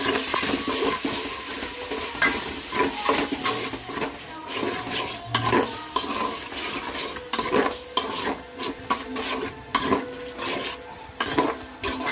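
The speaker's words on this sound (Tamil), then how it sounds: "இஞ்சி பூண்டு பேஸ்ட் போட்டுக்கலாம். நல்லா வதங்கட்டும்." Ginger garlic paste with mint sautéing in a pan for country chicken biryani, a bright sizzle under frequent clattering stirs and metal spoon scrapes against the vessel, close and busy, no talking.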